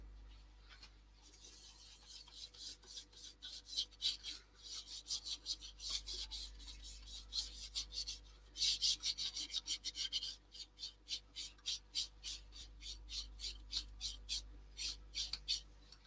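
Cellulose sanding sealer rubbed by hand onto a piece of turned wood, a steady rasping scrub in quick back-and-forth strokes that keeps going with brief pauses, close and fairly quiet.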